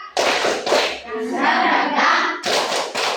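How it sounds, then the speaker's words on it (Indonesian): A group claps in sharp, rhythmic bursts, pausing while voices chant in between, then claps again in quick pairs. "Tepuk semangat dulu kita"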